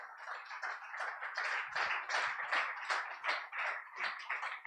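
An audience applauds the speakers at a live business event, a brisk patter of many hands clapping in quick uneven bursts, fairly close and sustained throughout with no speech over it.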